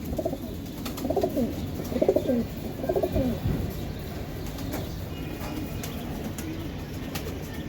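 Giribaz high-flyer pigeons coo in a few soft, rolling bursts during the first few seconds, over a steady low background hum.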